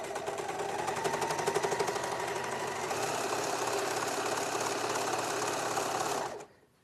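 A sewing machine stitches a pocket's curved seam in one steady, loud, fast run of needle strokes that lasts several seconds before stopping abruptly.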